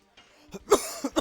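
A few rough coughs in quick succession, close and fairly quiet, with a brief throat-clearing sound before them.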